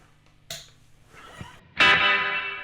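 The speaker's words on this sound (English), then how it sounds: "I have spring reverb," A guitar chord crashes into a metallic, splashy spring reverb that rings on and slowly decays, preceded by a few faint plucks and clicks.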